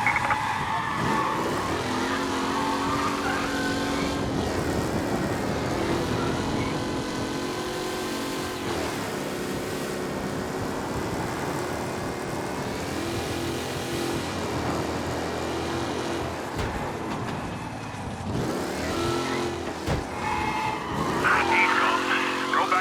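Race car in Mafia Definitive Edition tears through city streets, a loud continuous engine roar with tire skids and squeals, overlaid with game music and a police radio voice.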